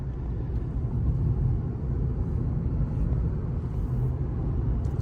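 A 2025 Mercedes-Benz C300 W206 C-Class accelerates, heard from inside as a steady low engine rumble with road and wind noise, fairly subdued and unchanging, with no talking.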